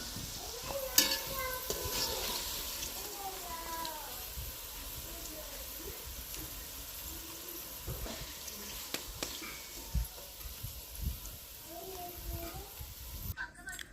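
A bitter gourd fry being stirred in a pan, with soft sizzling and scraping of the spoon recurring throughout, heard faintly beneath a person talking.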